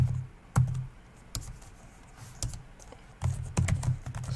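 Computer keyboard keys pressed in a few separate bursts of quick typing clicks, close and fairly faint, with quiet gaps between bursts while working in a Linux terminal inside VirtualBox.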